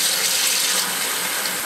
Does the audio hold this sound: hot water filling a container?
yes